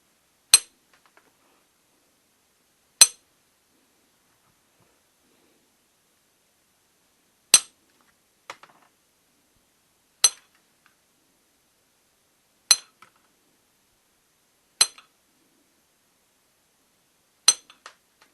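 A 12-inch common steel nail used as an indirect percussor strikes stone during flintknapping, giving seven sharp, bright metallic clinks spaced a few seconds apart, some with a faint second tap, against near silence.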